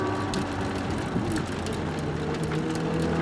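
A Ferrari race car drives on a track, its engine a steady, loud, continuous drone with no break.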